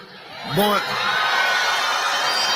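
A crowd cheers and whoops in a steady, loud roar that swells early and holds to the end, with a brief voice rising near the start.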